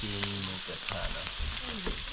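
Pork sizzles steadily on a hot Thai mu kratha grill pan, a constant crackling hiss close by, with faint voices murmuring underneath.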